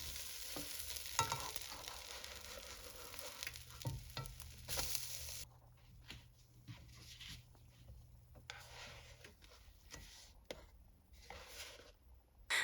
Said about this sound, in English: flip the pancakes and cook for another 1 to 2 minutes until they are golden brown